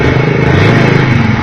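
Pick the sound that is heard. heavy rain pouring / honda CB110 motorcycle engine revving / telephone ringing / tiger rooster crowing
honda CB110 motorcycle engine revving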